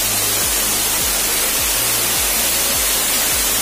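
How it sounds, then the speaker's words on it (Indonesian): The tall Manjang Merah waterfall: loud, steady, broadband roar of falling water, close and continuous with no breaks. "Sekarang kita sudah sampai di air terjun Manjang Merahnya"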